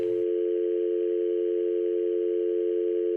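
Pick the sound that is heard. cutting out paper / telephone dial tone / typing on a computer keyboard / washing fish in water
telephone dial tone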